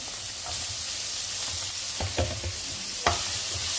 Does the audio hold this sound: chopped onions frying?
yes